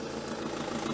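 A stopped Opel car's engine idles in a steady low rumble during a police traffic stop, close and unbroken, brief with no talk.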